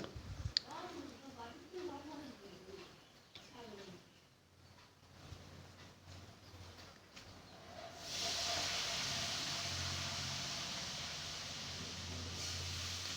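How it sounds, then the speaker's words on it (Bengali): Fish roe fries in hot oil. After a stretch of quiet talking, a loud, steady sizzling hiss suddenly starts and continues evenly to the end. "এবার মাছের ডিমটা কিছুক্ষণ ভাজার পর উল্টে নিয়ে আরেক পিঠ দিতে হবে"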